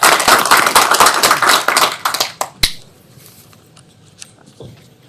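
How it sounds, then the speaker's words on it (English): An audience at a tech talk claps, a brisk burst of applause that thins out and stops after about two and a half seconds, leaving a quiet room with a few faint stray sounds. "Round of applause for them."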